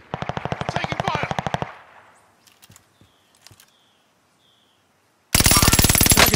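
Automatic gunfire in the video game Call of Duty: Modern Warfare, a loud, rapid burst that stops abruptly, a few faint clicks and thuds in a near-silent gap, then another loud sustained burst close up.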